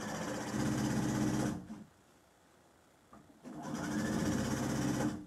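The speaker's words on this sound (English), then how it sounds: "just going to sew this. Down here, 1/4 inch again, as before." A sewing machine stitches a quarter-inch seam on an apron in two loud, steady runs, with a short quiet pause in the middle.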